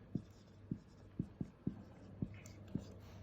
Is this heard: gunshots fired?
no